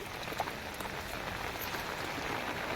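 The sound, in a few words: heavy rain falling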